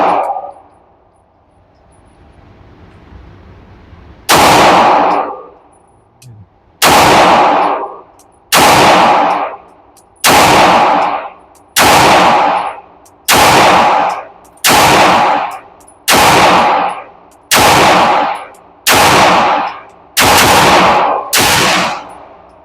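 Pistol gunfire at an outdoor shooting range with ported handguns such as a S&W Metal Carry Comp and Canik models, a long series of loud, evenly spaced single shots ringing out after a quiet start.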